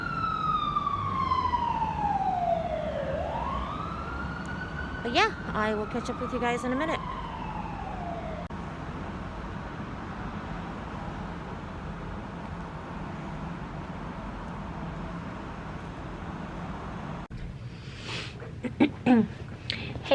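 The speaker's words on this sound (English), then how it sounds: "I don't know if you guys can hear me with the siren" An emergency vehicle siren wails outside a medical building, sweeping down and up in pitch, then chirping in quick bursts before fading. Someone talks nearby as the siren passes, and a few short yelps return near the end.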